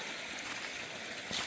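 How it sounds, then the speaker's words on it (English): Small woodland brook flowing over stones along a hiking trail, a steady close broadband rush and trickle that swells slightly near the end. "nice little brook."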